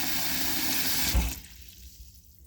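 Water runs from a tap in a steady rush, then cuts off abruptly, leaving quiet drips and a faint trickle.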